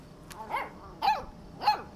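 A dog in the video game Life is Strange 2 gives three short, sharp barks spaced evenly about half a second apart, fairly close and clear over a quiet background.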